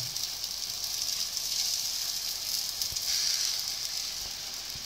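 Butter sizzles steadily in a hot pan while a buckwheat galette cooks, a soft, even hiss with a few faint crackles and no voices.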